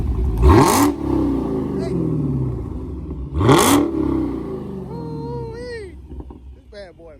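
A Dodge Hellcat with its stock exhaust fires off two sharp, loud revs a few seconds apart, each with a deep roar that quickly settles. Close-by voices follow the second rev.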